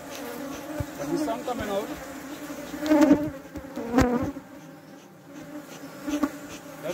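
Agitated Africanized honey bees buzz loudly and densely around the listener, swelling in intensity at moments, while someone speaks briefly over the swarm.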